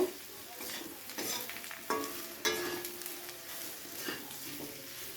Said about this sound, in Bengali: এবারে আলুর সাথে হলুদ আর কাশ্মীরি লঙ্কাটাকে খুব ভালো করে মিশিয়ে নেব।